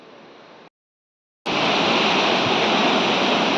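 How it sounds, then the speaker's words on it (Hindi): Fast-flowing Bhagirathi river at Devprayag in Uttarakhand, a steady loud broadband roar of rushing water that cuts out briefly and then returns even louder and constant, with no voices. "ये भागीरथी है जो तेज वेग से आ रही है, लहलहा रही है। पानी का शोर आप सुनिए।"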